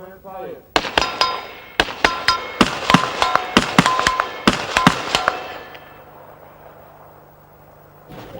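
5.56mm armor-piercing rounds fired at an armor plate during a weapons demonstration: a rapid, irregular volley of sharp, loud cracks with metallic ringing, then a quieter lingering tail.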